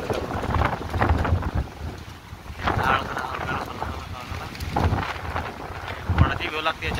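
Strong wind blows outdoors, buffeting a microphone with a steady rush and several heavier gusts, while someone talks over it.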